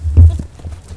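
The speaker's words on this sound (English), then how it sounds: "This horse is one of the lucky ones." A few heavy, close hoof thuds from a horse, a short uneven burst of clopping heard on its own.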